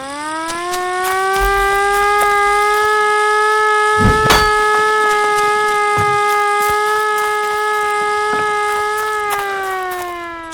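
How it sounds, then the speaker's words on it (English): A loud, sustained siren in the video game Ad Infinitum rises slowly and holds a steady, harmonic-rich wail for several seconds, with a brief clank partway through. "This looks like a siren."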